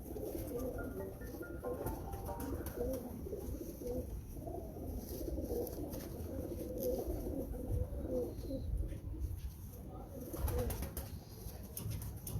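Pigeons in a Karachi loft cooing softly over a steady, busy background hum, low murmuring calls that run throughout at a moderate distance.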